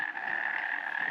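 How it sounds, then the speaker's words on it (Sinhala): Frogs croak steadily near Baker's Falls at Horton Place, a dense, continuous chorus close by with no talk over it. "ඒ තමයි මැඩියා හැවත් ගෙම්බා කියලා කියන මැඩියා. ඒ සද්ද තමයි ඇහෙන්නේ"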